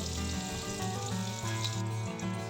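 Steady sizzling of eggplant frying in hot oil, close and continuous, with no voices.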